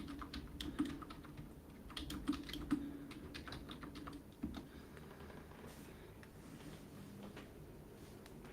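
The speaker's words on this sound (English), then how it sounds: "not doing well with the typing here" Typing on a computer keyboard, with irregular bursts of key clicks and a few louder taps, recorded close and steady against a faint background hum, no voices.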